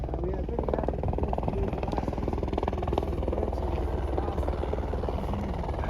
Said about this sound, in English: So you can see a lot of helicopters.